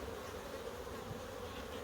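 Dense, continuous buzzing of honey bees swarms around an open hive close by, holding a steady, even drone throughout with no voices.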